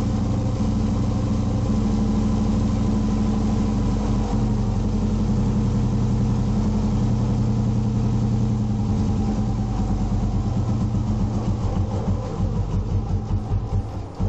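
A Royal Enfield motorcycle engine idles steadily and loudly during carburetor tuning, its rhythm slowing and becoming more uneven toward the end as the revs drop.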